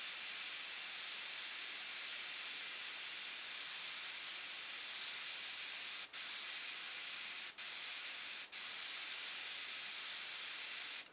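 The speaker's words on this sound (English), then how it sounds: "you could spray over the top of that and just darken it down" A continuous, even hiss of an airbrush spraying, close and steady, briefly interrupted three times near the end before resuming.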